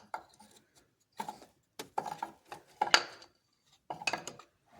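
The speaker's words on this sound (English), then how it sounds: "The tensioner should just come out now." A belt tensioner is worked loose and pulled from a Land Rover LR2 3.2L engine: sparse metallic clicks, scrapes and clunks in short bursts separated by quiet gaps, close and fairly faint.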